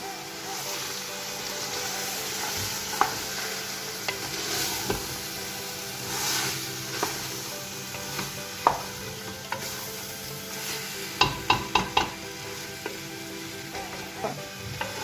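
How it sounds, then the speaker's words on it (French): Meat browning in a pan for couscous, a continuous close sizzle with scattered utensil clinks and a quick run of sharp taps near the end, with soft talk in the background. "je vais laisser un petit peu dorer la viande"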